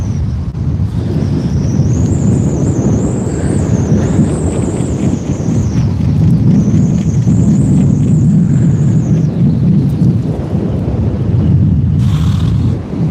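Strong wind roars and buffets a microphone on the beach during kayak sea fishing, a heavy continuous rumble with a high whistle from the fishing line rising and fading over it, and no talking.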